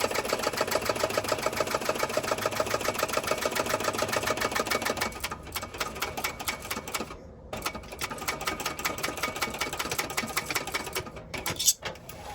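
A sewing machine stitches a bag seam with a fast, steady mechanical rattle of rapid needle strokes, close and clear, then slows and stutters with brief pauses as the backstitch and run along the seam continue.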